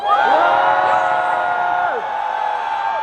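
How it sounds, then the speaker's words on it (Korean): A festival crowd of university students cheers and screams at an outdoor concert, a loud burst of many high voices whooping together, then easing slightly while still sustained. "함성 한번 더 질러주세요."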